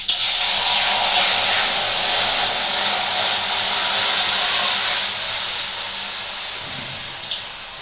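Water poured in one go into an empty, dry, preheated kadai (wok) in a village kitchen, hissing loudly into a sustained broadband steam sizzle that slowly fades over several seconds, with no talking.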